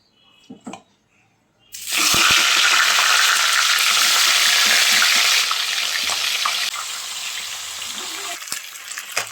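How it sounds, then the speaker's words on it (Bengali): Catla fish heads hit hot oil in a wok and burst into a loud, steady sizzle after a couple of quiet seconds, with occasional clinks; the frying stays strong and close, easing slightly toward the end. "এখন আমি এই কেটে রাখা কাতলা মাছের মাথাগুলো ভেজে নেব।"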